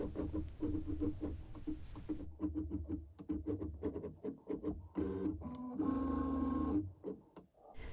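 A LOKLiK iCraft cutting machine cuts vinyl stuck on a mat, giving a rapid run of close mechanical clicks and whirring motor moves, with short pauses and a louder buzzing carriage pass near the end.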